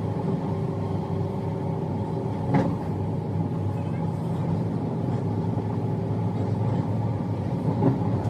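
Steady rumble of a Dutch train near Hoofddorp station, a continuous loud low drone with a couple of brief clunks, lasting throughout.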